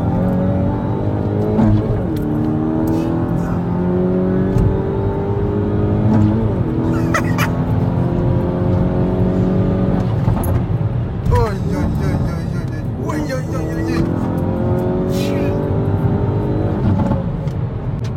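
A 300 hp front-wheel-drive Hyundai i30N compact pulls hard through repeated rising engine sweeps and gear changes, loud and close, with people talking over the engine throughout.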